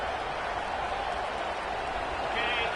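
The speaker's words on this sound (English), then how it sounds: "This crowd, full throat, splitting the eardrums and letting them know it's going to be a long day." A stadium crowd at a college football game against USC roars in a dense, sustained wash of cheering that swells slightly toward the end, with voices blended into the noise.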